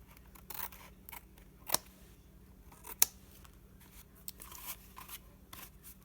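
Quiet, irregular snips of scissors cutting paper, with two sharper, louder cuts standing out against a faint hum.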